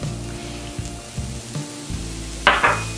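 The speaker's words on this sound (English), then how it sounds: "we're gonna saute our vegetables and our farro together" Diced mushrooms and farro sautéing together in a pan for savoury stuffed squash, a close, even sizzle with a few soft stirring knocks and a brief sharper hiss near the end; no talking.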